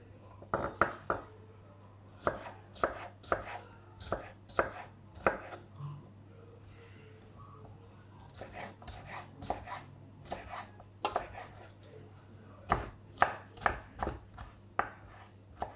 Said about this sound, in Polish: I teraz też kroję sobie w paseczki i w kosteczkę.